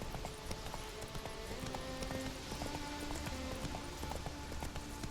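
Roach the horse trots along in The Witcher 3, with steady, rhythmic clip-clopping hooves under a soft bed of ambient background noise.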